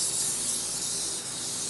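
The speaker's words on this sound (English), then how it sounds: "I'm just gonna spray this guy" An oil spray hisses steadily onto a whole chicken being prepared for roasting, a close, continuous aerosol spray lasting the whole moment with no talking.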